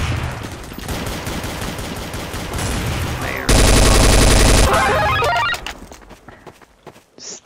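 Counter-Strike: Source gunfire crackles in dense, overlapping bursts and rapid automatic volleys, loud and sustained, peaking in a long saturated barrage before thinning into scattered single shots.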